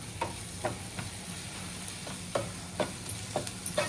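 A liver and meat mixture being stirred in a pan for a dry Agri-Koli kaleji dish, with a steady faint sizzle and several sharp spoon scrapes and clinks spread irregularly across the clip, no voices.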